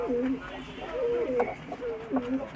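Punjabi pigeons coo close at hand in soft, repeated rolling phrases, with someone talking over them.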